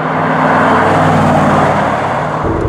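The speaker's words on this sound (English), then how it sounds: "I don't know that I've ever been in a car that accelerates so quickly at half throttle." A Mercedes SLR accelerates, heard as a loud, steady engine drone with strong low harmonics from inside the car.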